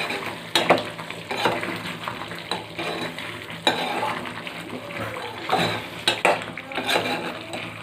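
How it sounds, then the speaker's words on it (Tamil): Chettinad-style chicken gravy stirred in a pan, with repeated scraping and clinking of a spoon against metal over a soft sizzle, in uneven strokes across several seconds. "நல்லா கிளறி விட்டுருங்க."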